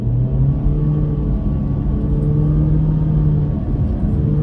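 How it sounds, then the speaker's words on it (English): A 2023 Honda HR-V accelerates uphill, its engine giving a steady low droning rumble with a faint rising tone, heard from inside the cabin with no talking. "let me step on the gas right now"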